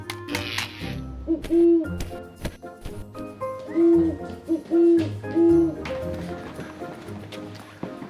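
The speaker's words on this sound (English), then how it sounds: "This owl's totally outplaying us here." An owl gives several low, rounded hoots in a loose irregular series over a busy background of thumps, rustles and other noises, with no clear speech.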